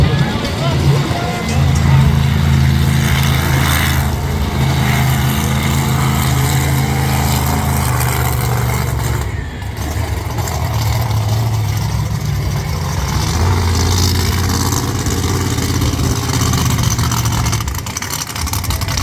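The Roarin Rex monster truck's engine rumbles and revs loudly through a freestyle run at New Egypt Speedway, a sustained heavy roar with surging throttle, while an announcer talks over it.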